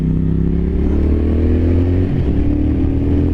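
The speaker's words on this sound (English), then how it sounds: "Wow, this bike definitely wants to go." A 2023 Triumph Thruxton RS Chrome Edition cafe racer pulls hard under acceleration, its engine a loud, steady, close drone with a slight pitch rise midway and no voices.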